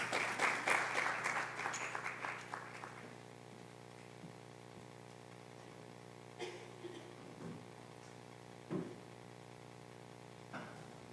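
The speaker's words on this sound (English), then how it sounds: "Applause first" Audience applause at a sports and education conference in Lisbon, a dense burst of many hands clapping for about three seconds that then dies away into a quiet hall with a few faint knocks and shuffles.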